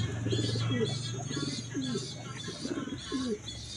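Pigeons coo in soft, repeated rolling calls, close and fairly quiet, a few overlapping phrases over a low steady hum.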